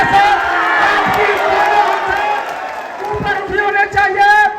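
A large crowd at a political rally in Bhagalpur for two opposition leaders cheers, whoops and applauds loudly and continuously, with an amplified speaker's voice mixed in.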